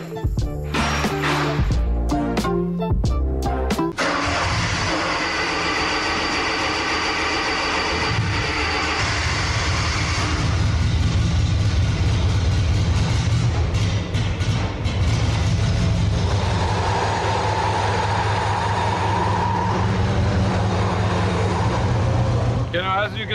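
A cheap used skid steer rumbles sluggishly out of a shop, its engine droning loud and steady with a few sharp clanks at the start and a deeper surge partway through, a voice talking over it.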